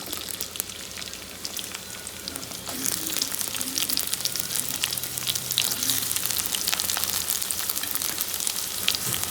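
Onions hit hot oil in a pan for ponaganti koora fry and crackle into a steady, dense sizzle that swells louder after a few seconds and keeps hissing close up, with no voices.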